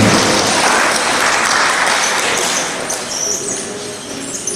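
An audience at a physical sciences conference in Nigeria applauds loudly and continuously, a dense wash of clapping that gradually fades, with faint voices mixed in.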